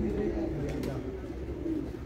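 Pigeons at a loft, soft low cooing rolling on through a dense background hum, fairly close but not loud, with a faint sharp tap or two partway through.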